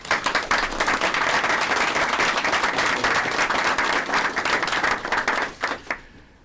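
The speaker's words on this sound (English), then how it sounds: "Big round of applause for these great leaders" Loud, sustained applause from the room at a Texas governor's hurricane press conference, dense clapping that thins into scattered claps near the end.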